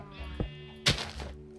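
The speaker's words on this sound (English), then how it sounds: "you can see it sheared the sheep" A Minecraft sheep bleats in the Ancient Warfare mod as it is sheared, giving a short, close bleat among soft thunks.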